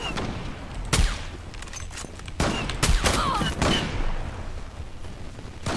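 The Bora 12 fires in the video game Zula, with several sharp, loud shots spaced irregularly over a few seconds against a busy game background.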